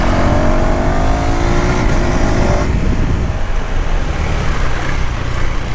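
A KTM Duke 390 motorcycle engine, 2026 model, revs hard and then drops sharply as it downshifts through a quickshifter without the clutch, loud and close on a road with traffic.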